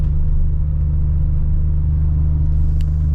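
An old Mercedes Benz car, the pedal floored, crawls along at 20 mph with a loud, steady low engine drone and road rumble heard from inside the cabin, with no talking.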